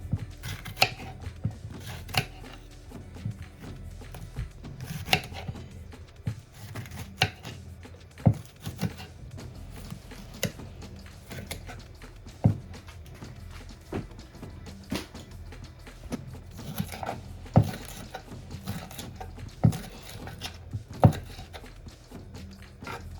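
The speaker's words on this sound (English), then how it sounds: "So let's cut the pepper." A knife cuts a pepper at close range with a long series of soft, irregular chopping taps against a board, each cut quiet and brief.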